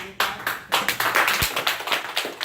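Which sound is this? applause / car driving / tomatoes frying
applause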